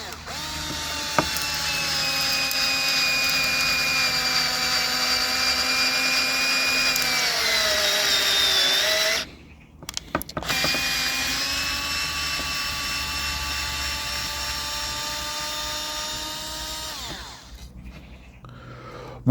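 A cheap cordless screwdriver drives large screws, its motor whining loud and steady, bogging and dropping pitch under load, stopping briefly, then running again through a second long drive before cutting out.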